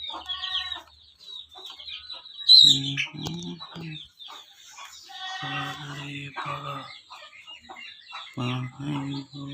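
Lakha pigeons in a loft give several bursts of low, throaty cooing in close succession, with thin high chirps from other birds in between.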